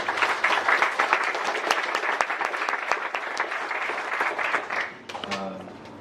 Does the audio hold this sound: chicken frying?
no